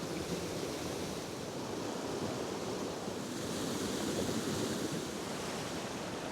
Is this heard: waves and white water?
yes